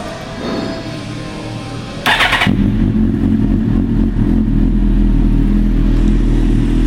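A 2008 Suzuki GSX-R1000 sport motorcycle with an aftermarket pipe starts with a quick clatter, then idles loudly and steadily with a deep, throaty exhaust rumble.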